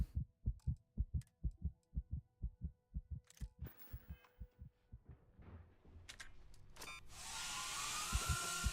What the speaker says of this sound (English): you'll hear the heartbeat, and then when it goes drone mode